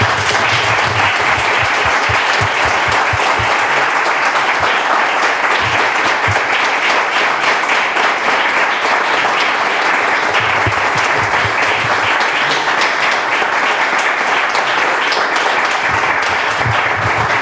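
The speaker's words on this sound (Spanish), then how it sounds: "yo les pido un aplauso para ello" A large audience at a talk on extreme weather events applauds continuously, a dense, loud wash of clapping that holds steady for the whole stretch without pausing.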